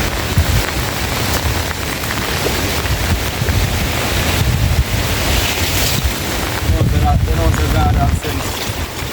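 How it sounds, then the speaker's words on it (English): Loud, steady rush of strong Hurricane Beryl wind at Seven Rivers buffeting the microphone, a constant roar with gusty surges throughout. "The weather is very, very steamy, windy, hot, cold."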